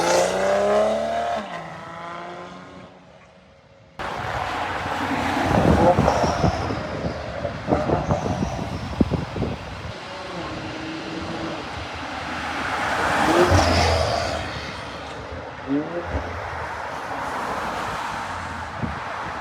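A modified, loud BMW 540i drives past with a roaring engine and exhaust that swells and fades, with audible downshift surges. The sound is loud and continuous, and voices are heard over it.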